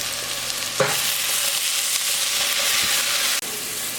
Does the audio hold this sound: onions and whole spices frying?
yes